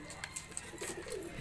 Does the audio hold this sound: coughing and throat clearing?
no